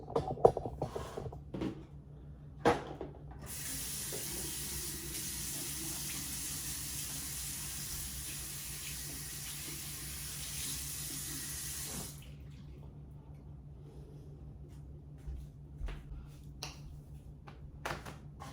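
Water runs steadily from a bathroom tap while hands are washed, a continuous close rush lasting several seconds before shutting off, with small clicks and handling sounds before and after.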